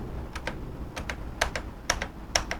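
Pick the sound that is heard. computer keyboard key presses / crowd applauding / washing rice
computer keyboard key presses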